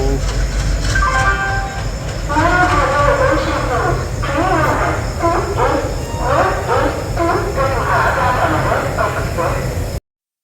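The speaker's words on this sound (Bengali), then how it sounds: "অপেক্ষার অবসান ঘটিয়ে এবার আসছে আমাদের হাওড়া যাওয়ার ট্রেন" A passenger train arriving at a station rumbles steadily close by with a continuous low roar and rail noise, while people talk over it throughout.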